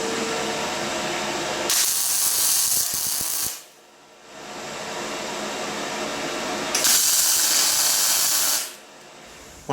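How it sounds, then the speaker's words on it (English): Steel posts for a Victorian-style garden bridge are tack welded at the base: two loud, sizzling hisses of about two seconds each, separated by quieter pauses. "So I'll finish tacking all of these off at the base"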